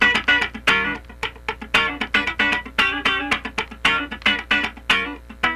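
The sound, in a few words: funk rhythm guitar half-step slide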